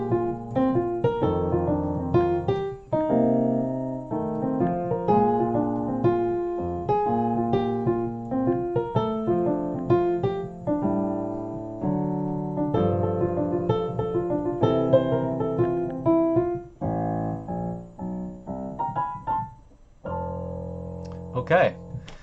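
Solo piano playing an F blues with left-hand shell voicings under right-hand lines and turnarounds, steady swung rhythm for about twenty seconds, close and clear with no talking.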